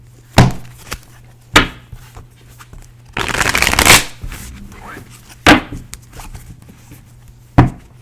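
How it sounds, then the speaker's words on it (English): Tarot cards are shuffled by hand in a quiet room: a few sharp taps and riffles, then one long rustling shuffle of a couple of seconds, followed by more isolated card slaps. "That was a smooth shuffle"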